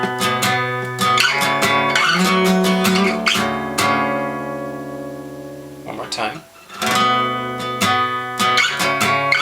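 An electric guitar plays a phrase from a song with sustained ringing notes, slides and quick trills, loud and close, with a short gap near the middle and a brief spoken voice.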